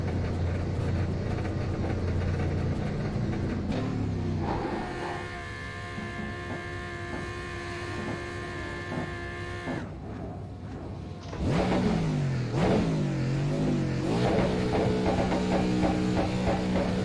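Zakspeed Mercedes GT3 race car in iRacing at Sebring, engine revving and shifting through rising and falling pitches, cutting out briefly then climbing again loudly near the end, with no talk.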